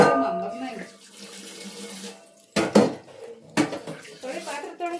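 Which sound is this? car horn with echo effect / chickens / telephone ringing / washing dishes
washing dishes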